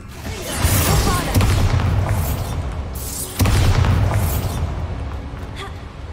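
In the Hogwarts Legacy video game, the Confringo blasting spell hits a wall with two booming explosions a few seconds apart, each fading into a rumbling, crackling tail.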